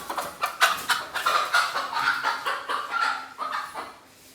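A village hen from Dapoli clucks repeatedly at close range, a rapid rhythmic run of squawking calls that fades toward the end, with no talking.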